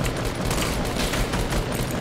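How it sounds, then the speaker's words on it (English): Rapid bursts of Fortnite gunfire crackle steadily, a dense volley of shots with clattering mechanical texture filling the whole moment at moderate loudness. "Someone's shooting at me."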